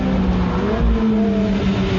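Ferrari F430 Spider with carbon brakes, its engine pulling hard at full throttle out of a corner, a loud, continuous, rising engine note close by with no talking.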